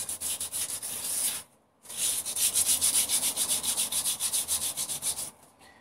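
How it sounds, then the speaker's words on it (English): A Rover 75 car wheel is hand-sanded with sandpaper: rapid rhythmic back-and-forth rasping strokes, close and steady, pausing once briefly before resuming at a regular pace. "This sandpaper's trash."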